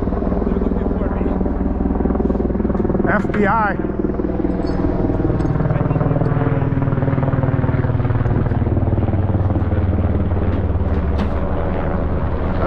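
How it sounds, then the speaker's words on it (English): A military helicopter's heavy rotor thump and engine roar fill the whole stretch, loud and steady, with voices talking over it, in snowy winter weather. "I think that's a military helicopter."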